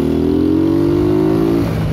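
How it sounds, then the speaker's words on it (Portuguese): A motorcycle engine revs steadily from outside the bike, a loud, continuous drone that holds its pitch and then drops away near the end, with no voices over it. "Gravação do motor de fora."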